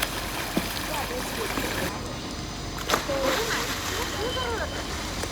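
Water splashes and sloshes in an outdoor swimming pool at a gymkhana in Gandhinagar as a swimmer jumps in, with a brief splash burst over continuous watery background and distant voices.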